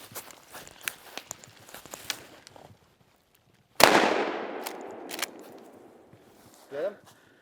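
A single loud gunshot rings out during a turkey hunt in the Vermont mountains, its boom trailing into a long echoing decay. Rustling footsteps come before it and a brief sound follows.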